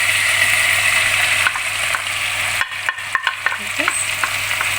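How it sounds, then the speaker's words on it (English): Tomatoes fry in melted butter over a high flame, giving a steady loud sizzle with a few scraping stirs and soft clinks partway through. "We're going to fry the tomatoes for some time till they're a little fried there."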